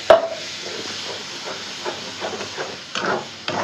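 Shrimp and grated coconut sautéed in a pan for Barishal-style chingri jhura, a close, steady hiss with soft scraping stirs and a sharp clank at the start, no voices.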